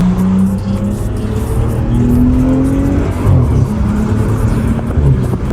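A loud rebuilt BMW 540i drives on the road, heard from inside the cabin as a steady engine drone with rising revs and a rumbling exhaust, continuous and close.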